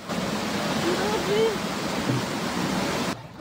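Floodwater from the river surges in through a collapsed river wall in Navotas, pouring into homes as a loud, steady broadband roar that cuts off abruptly near the end.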